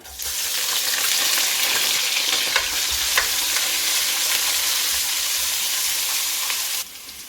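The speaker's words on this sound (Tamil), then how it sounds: "இப்போ கடுகெல்லாம் பொரியக்கொள்ள பச்சை கொச்சிக்கையும் கருவேப்பிலையும் பச்சஞ்சு வெள்ளை வெங்காயத்தை நான் போட போகிறேன்" Mustard seeds, green chillies, curry leaves and white onion fry in hot oil for a chicken devil, giving a loud, steady close sizzle with crackles and a few sharp pops. The sizzle drops off abruptly near the end.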